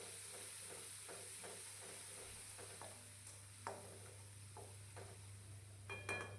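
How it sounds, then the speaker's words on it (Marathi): Masala for Khandeshi besan thapi vadi stir-fried in a pan over a low gas flame: a steady soft sizzle with repeated scraping strokes of a spoon, a low hum beneath, and a few sharper clinks near the end. "मसाला परतवून घ्यायचा."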